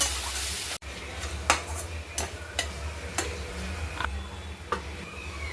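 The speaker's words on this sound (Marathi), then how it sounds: "आता व्यवस्थित मिक्स करून घेऊ" Masala stirred into tomatoes with chilli powder and pav bhaji masala, a spoon scraping the pan in a steady series of close, clear strokes over a faint sizzle.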